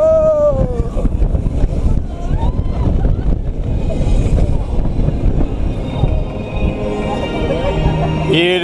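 A Europa Park roller coaster rumbles and roars through an inversion, with heavy wind rush and rattling track noise, close and loud, while a rider's voice rises over it.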